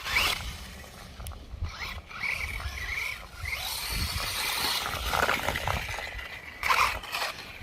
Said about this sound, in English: Can you hear that hard clicking sound, guys? That's where I've got metal hubs and they're slightly loose and they're banging against the bearing